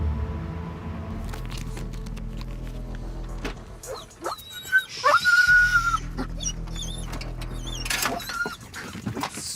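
A police dog on a night shift whimpers and yelps nearby over a low engine rumble, rising into excited, high-pitched barking and whining in the middle before settling back down.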